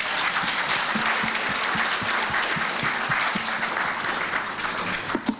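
Panel discussion audience clapping in sustained, dense applause, loud and close, tapering slightly toward the end.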